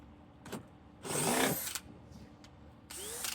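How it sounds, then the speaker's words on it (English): Short bursts of a DeWalt cordless drill whirring, one longer run in the middle and another at the end, with quiet pauses between. "I love this drill."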